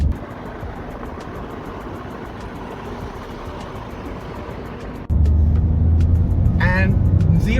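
A Citroen C3 cruising in 6th gear at about 68 km/h, its steady road and engine drone jumping to a louder, deeper surge as it accelerates hard, with a voice briefly talking over it near the end.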